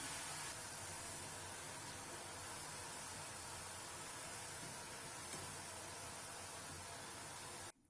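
A constant, dense sizzling hiss of curd murukku frying in hot oil, steady and close throughout, cutting off abruptly at the end.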